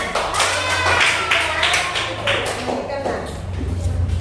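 A classroom of students claps hands together during a teaching session, a loud, dense burst of clapping with scattered taps and shuffling, while voices talk over it throughout.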